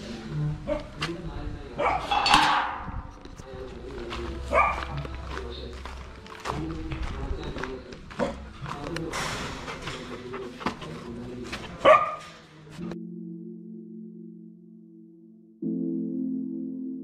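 Puppies bark in short yips and bursts among nearby bird cooing while people talk over them for much of the time, ending on a steady hum.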